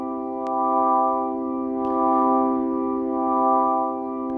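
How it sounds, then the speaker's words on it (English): A Yamaha CK88 organ chord held with the rotary speaker effect on slow speed, a loud sustained tone with a gentle rising and falling swell as the simulated speaker turns. "you can hear the rotation start to oscillate as the speaker spins"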